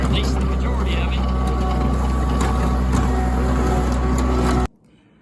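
A 72-inch diesel mower cutting grass gives off a loud, steady, rumbling engine drone that continues evenly and then cuts off abruptly near the end.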